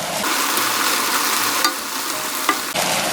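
Chili peppers sizzle in a hot pan with chopped garlic and onion as they are stir-fried for a pepper and anchovy dish, a loud continuous fry with a few sharp scrapes of the spatula, close up and without talk.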